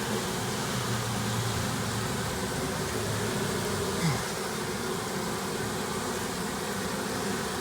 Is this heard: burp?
no